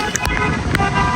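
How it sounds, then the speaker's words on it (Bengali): Heavy rain beginning outdoors, a loud dense hiss that stays steady and close throughout the short moment. "বৃষ্টি শুরু হয়ে গেল, আমরা বাসায় যেতে যেতে কড়া বৃষ্টি।"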